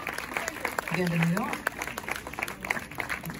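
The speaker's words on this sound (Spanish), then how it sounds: "¡Un aplauso para Octavio!" An audience applauds at a Spanish-language press conference for the film cast of Malverde: scattered, light clapping runs under a host's loud, lively talk throughout.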